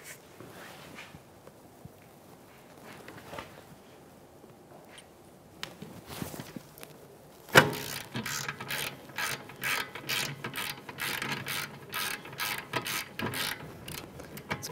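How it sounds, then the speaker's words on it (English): A ratchet with a 17 mm socket breaking loose the rear caliper bracket mounting bolts on a 2013-2018 Toyota RAV4: quiet handling at first, then a sharp crack of the bolt freeing followed by rapid, steady ratchet clicking close by, with no talk. "with a 17 millimeter socket, I'm gonna break these mounting bolts free."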